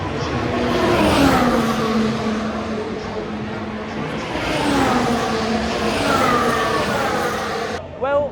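Formula 1 race cars scream past the paddock at a Grand Prix, loud engine whines climbing and falling in pitch as they pass close by one after another, with a further car cutting in sharply at the end.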